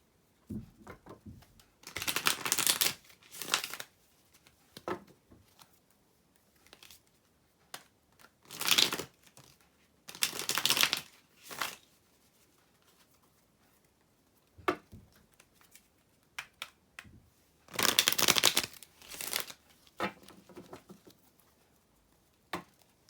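Bursts of riffling tarot card shuffles, a few seconds each, separated by quieter pauses with light handling clicks and taps; fairly close and crisp.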